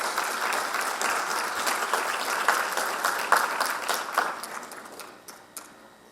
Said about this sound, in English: So let's also give a round of applause for our teachers.